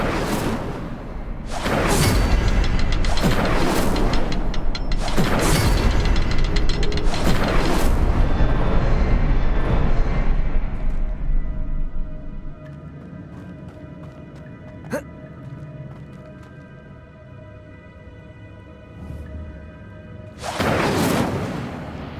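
Incendio fire spell cast in Hogwarts Legacy, producing a string of loud, booming fiery blasts one after another, then quieter ambience with a final burst at the end.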